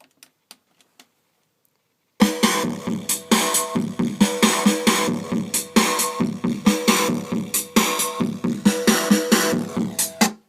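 After a few faint ticks, a gritty, distorted drum beat kicks in, bass drum and snare run through a bit crusher pedal, crunchy hits pounding in a steady, driving rhythm.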